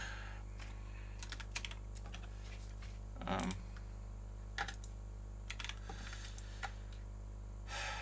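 Computer keyboard keys clatter in short scattered bursts, quiet and close, with pauses between runs of keystrokes over a steady low electrical hum.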